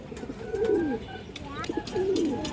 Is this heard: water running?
no